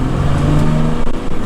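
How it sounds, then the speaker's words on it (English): A 1993 Dodge Cummins W250 turbo diesel truck engine drones loud and close with a steady low rumble and slight revving during a short drive. "we wanted to give you guys a little ride in our Cummins turbo diesel."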